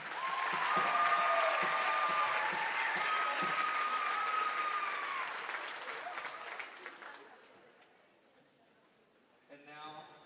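Gym crowd at a high school homecoming game applauding the homecoming court, loud sustained clapping that gradually fades out, followed by a voice over the PA near the end.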